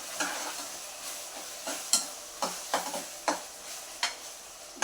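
Ingredients fry quietly in a pan with a soft, constant sizzle, broken by sharp clicks and scrapes of stirring against the metal, heard close with no talk.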